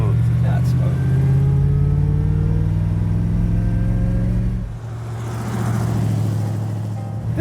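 A 1938 Tatra with a rear-mounted V8 engine drives along, a steady low engine rumble close by with a brief dip midway, while people talk over it.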